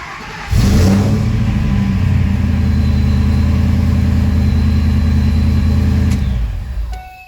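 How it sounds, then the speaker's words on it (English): A Ford Lightning pickup truck cranks and its engine catches, settling into a loud, steady close-up idle for several seconds before the sound trails off. "hopefully the truck starts"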